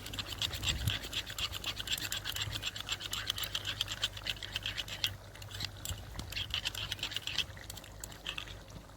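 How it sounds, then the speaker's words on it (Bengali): Sour yogurt whisked in a bowl for a rohu fish curry with cauliflower, a rapid rhythmic scratchy beating, near but quiet and steady throughout. "টক দইটা আমি ফেটিয়ে দিচ্ছি"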